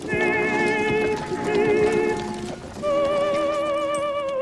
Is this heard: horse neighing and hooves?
yes